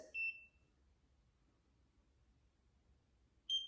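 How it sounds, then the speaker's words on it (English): Two short, high electronic beeps from a handheld skin device, one at the start and one near the end, separated by a quiet stretch with faint low hum. "And you wait for the beep, and then you move to the next spot."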